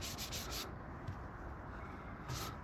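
Hand rubbing over gritty, contaminated paint on a MK1 Audi TT door panel, producing a soft rough scratchy swish in a few short strokes, quiet and close with no talking.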